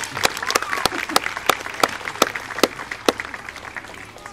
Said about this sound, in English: Big round of applause for Brandy